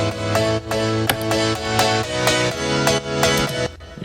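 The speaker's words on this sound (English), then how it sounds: "So I just added some of that middle to bring some body back to the piano." Layered piano with added midrange body in a stereo mix, playing steady rhythmic chords alongside a full music track with no talking, loud and continuous until it drops away near the end.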